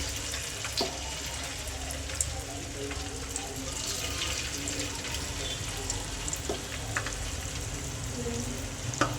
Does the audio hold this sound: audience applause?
no